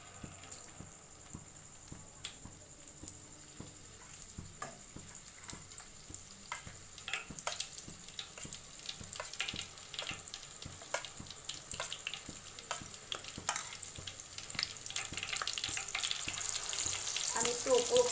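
Flour-coated chicken for satay fries in hot oil. A soft sizzle and scattered stirring clicks build steadily louder toward the end, with no talking over it.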